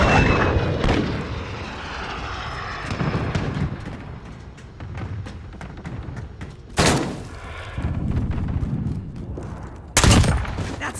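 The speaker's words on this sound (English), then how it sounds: "UAV is ready for flyover." A UAV flies over in a first-person shooter video game, its engine drone rising and fading across the scene while sharp bursts of game gunfire and booms punch through.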